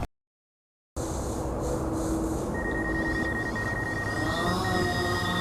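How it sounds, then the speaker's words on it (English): A DJI Phantom 4 V2 quadcopter drone spins up for launch, a loud, steady, dense whir with a rising rotor whine that holds close and constant after a brief silence. "I'm gonna launch the quad"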